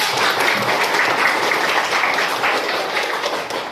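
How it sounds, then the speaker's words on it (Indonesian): Students in a classroom give a round of applause, a dense steady patter of many hands clapping close by with no talking, fading slightly at the end. "kita berikan tepuk tangan"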